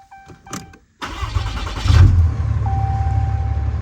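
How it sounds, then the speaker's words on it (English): A truck engine with blowby problems cranks and fires up, a short starter whine leading into a loud catch, then settles into a steady close idle, with a brief chime beforehand. "Let's start our engine."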